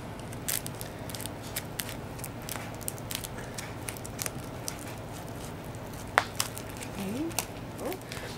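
Round tip scissors cutting along through material, a string of small close snips and crisp clicks over a low background hum.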